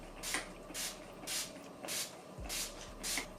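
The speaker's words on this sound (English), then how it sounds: "I'm going to go ahead and spray my face and set it completely with my Urban Decay All Nighter Spray" Urban Decay All Nighter setting spray is misted over a face in about six short, breathy hissing bursts spaced roughly half a second apart, close and fairly soft, with no talking.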